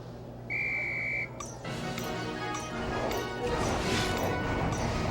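A single sharp referee-style whistle blast lasting about a second starts a broom flying lesson in a stone courtyard in a Harry Potter video game, followed by busy game ambience and clattering effects.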